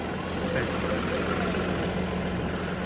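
A tractor engine idles steadily in a farm field being prepared for potato planting, with a low, continuous rumble and faint knocking, held at an even level for the whole stretch.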